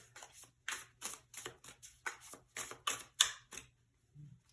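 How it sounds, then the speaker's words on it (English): Tarot cards drawn from a deck and laid down, a quick series of crisp slides, snaps and taps in an irregular rhythm, close and fairly quiet, with no talk. "And I'm going to get two more cards here."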